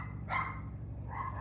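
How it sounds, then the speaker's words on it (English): Dogs give two short barks, one near the start and a softer one toward the end, over a steady low background hum. "Trying to train them not to bark."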